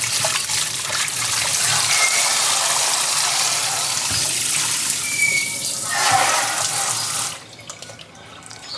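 Running water from a tap rinses tapioca starch off stuffed eggs in a sink, a loud steady splashing stream with brief clinks, cutting off near the end.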